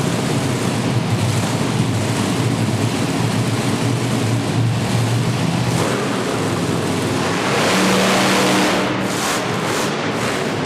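Monster trucks roar through a consolation race at a Monster X Tour event in Pikeville, Kentucky, with Bigfoot against Stinger, giving loud continuous engine noise and a crowd-like wash that swells briefly near the end.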